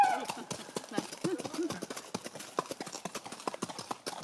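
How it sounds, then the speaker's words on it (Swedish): Horse hooves clip-clopping in a steady rhythm on a hard surface, moderately close, with a brief whinny-like squeal at the start. "Det är hästar, gumman."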